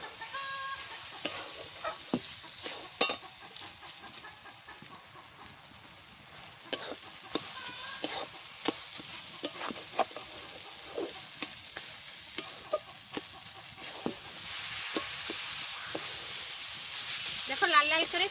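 Crushed cloves and cardamom fry in a pan with a soft hiss, broken by sharp scraping and stirring clicks, and a sizzle that swells toward the end.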